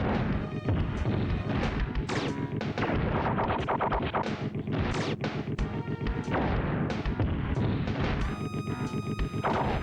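Rapid gunfire and crashing impacts from a strafing forklift in a 16-bit beat-em-up video game, with dense continuous bursts of shots and smashes filling the whole span loud and close, with no talking.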